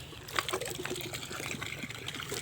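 Water sprays and trickles from a fixture at a house in Sual, Pangasinan: a quiet, continuous splashing with small irregular spurts, heard alone.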